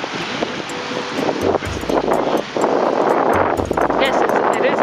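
Wind blowing beside a lake in a park in Rotorua, a steady broadband rush buffeting the microphone with low rumbling gusts throughout, while people talk in the background.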